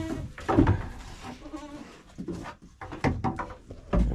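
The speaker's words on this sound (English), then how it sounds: "Goats are eating." Goats on a homestead bleat repeatedly and close by, several overlapping calls rising and falling over about four seconds against light background rustling.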